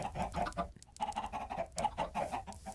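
Chickens in the video game Minecraft cluck repeatedly in quick, close bursts that continue throughout, with short pauses between the groups of calls.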